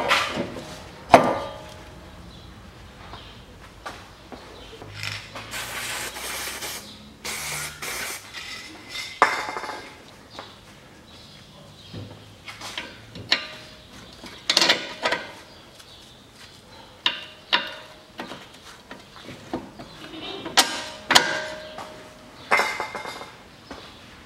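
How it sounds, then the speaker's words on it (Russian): Bolts go into the strut of a 2012 SsangYong Actyon 2.0 4WD during clutch replacement, with scattered metallic clinks, taps and knocks spread across the clip and no talking. "Вставляю болты в стойку."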